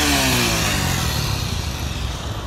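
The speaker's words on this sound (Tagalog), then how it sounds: "Ang ingay ng ano na yun, motor na yun" A motorcycle at a street crossing roars past loudly, its engine tone falling away across a couple of seconds as it moves off, with steady traffic noise underneath.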